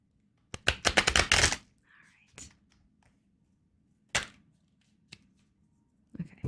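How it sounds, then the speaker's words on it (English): Thoth tarot deck by Aleister Crowley being shuffled, a dense burst of rapid riffling card flicks followed by a few isolated taps and snaps of cards, close and fairly quiet. "I'll get a couple more shuffles here."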